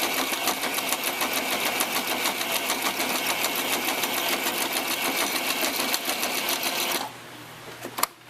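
A sewing machine stitches along the side of a tutu purse in a rapid, even mechanical chatter, close and loud for about seven seconds before stopping, followed by a couple of soft clicks.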